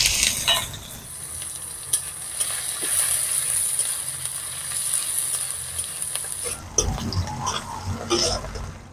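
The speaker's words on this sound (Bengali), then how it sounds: "ফোড়ন লাল হয়ে গেছে, দিয়ে দেব পেঁয়াজ কুচি" Chopped onion hits hot oil tempered with five-spice and bay leaf, a sizzle that rises, holds as a steady hiss, then breaks into louder stirring scrapes and clatter near the end, close, no speech.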